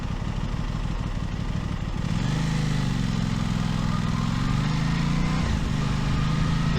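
An Aprilia RS660 sport motorcycle's engine while riding, a steady close drone that rises slightly in pitch, over constant road and wind noise.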